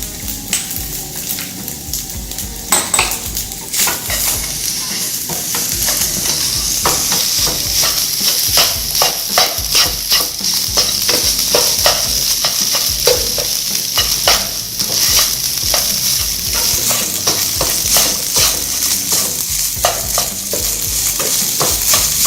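Chopped onion and garlic fry for fried rice, a loud continuous sizzle broken by rapid, rhythmic metal scraping and stirring against the pan for the whole stretch.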